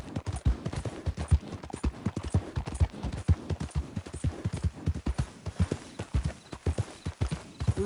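Horse hooves clip-clopping steadily in the Red Dead video game, a rapid, even rhythm of close, distinct hoofbeats carrying on throughout with no talking.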